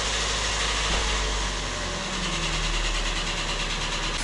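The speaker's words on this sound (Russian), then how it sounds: "Вот получается 3СЗВЕ двигатель. Стук поршней на перекладке." A Toyota Rush with a 3SZ-VE engine idling with piston slap knock, a loud, steady, close engine drone running without a break, with no talk over it.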